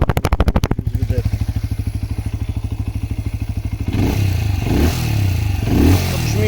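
Benelli Leoncino 125 motorcycle exhaust idling close up with a steady mildly bassy single-cylinder thump, then blipped in a few short revs that swell louder before settling.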